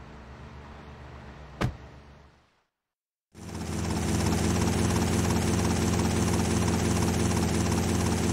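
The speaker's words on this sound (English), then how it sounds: "Take my copter." Helicopter in the video game GTA Vice City Stories, a dense steady rotor and engine roar starting abruptly after a short silence, loud and continuous, with a brief sharp tone just before it.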